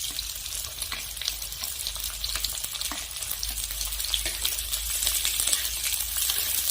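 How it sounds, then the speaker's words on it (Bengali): Chopped onions and ginger sizzle and crackle steadily in hot oil in a pan, with faint scraping and clinks as they are stirred for a home-style chicken curry. "পেঁয়াজও 2 মিনিটের মতো নেড়ে চেড়ে ভেজে নেব"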